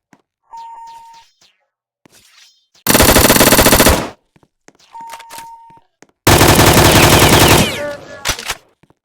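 Bursts of rapid rifle gunfire in a video game, two long loud volleys separated by short electronic beeps and quieter clicks.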